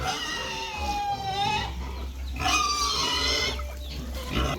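Pigs squeal and grunt in a busy, continuous chorus, close by, with a low hum underneath.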